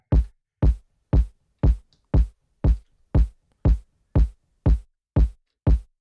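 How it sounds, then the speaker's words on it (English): A main kick drum sample from a house music production plays alone, twelve punchy, evenly spaced hits in a steady four-on-the-floor pulse, each with a deep low thump and a quick decay. "Then we have the main kick drum,"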